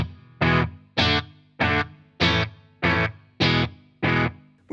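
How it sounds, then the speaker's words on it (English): Electric guitar run through an inexpensive Cuvave digital delay pedal, with edgy distortion and heavily filtered echo; seven evenly spaced loud chord stabs, each fading into its repeats, played alone. "So you can hear in that tone, you've got this edgy distortion to it and it's heavily filtered."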